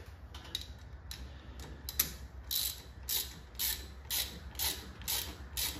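A hand ratchet clicks in a series of short, regular bursts while tightening bolts on a 1959 Chevy Impala, close and fairly quiet, with the strokes growing more even toward the end.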